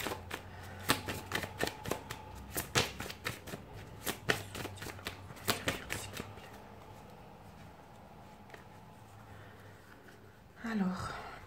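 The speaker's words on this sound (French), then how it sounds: "Je remélange quand même les cartes." A deck of tarot cards is shuffled by hand in close, crisp papery bursts that repeat for several seconds. The shuffling then gives way to a quiet lull and ends with a soft bump.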